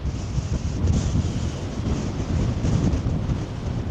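Strong wind buffets the microphone beside the sea, with breakers rolling and crashing onto the shore in a steady, loud roar that continues without a break.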